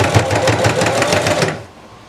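A sewing machine stitching off the edge of a vest to tack down a corner, a fast, even, close mechanical chatter that stops abruptly near the end, leaving quiet room tone.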